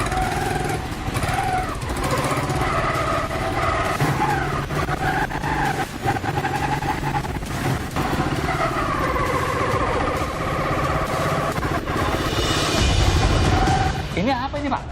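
A small motorcycle engine runs steadily nearby with a buzzing, putting drone, holding an even level with a brief rise near the end.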